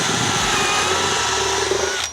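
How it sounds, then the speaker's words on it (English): A matching drill bores pocket holes through a Kreg 720 Pro jig into wooden monitor stand sides, a loud, close, high-pitched motor whine with cutting noise that runs steadily and then stops abruptly at the end. "So I'm putting 2 pocket holes on each side using the 720 Pro and the matching glue drill."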